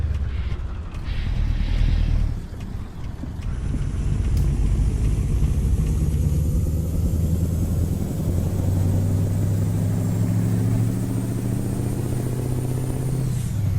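A heavy Mack Superliner truck engine in American Truck Simulator drones steadily and loudly, its low rumble rising in pitch as it accelerates, with no talking.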